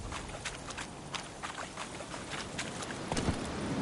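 A horse's hooves clip-clop at a steady pace in the fantasy game The Witcher 3: Wild Hunt, faint and rhythmic over soft ambient noise.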